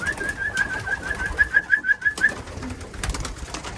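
Racing pigeons settle on a roof, one close bird repeating a rhythmic cooing call in a series of pulses, with soft flutters and faint outdoor background and no voices.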